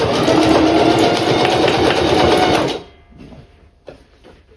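Sewing machine stitching a glueless wig, backstitching, with a loud continuous rapid mechanical whir for several seconds that then stops, leaving quiet handling noises.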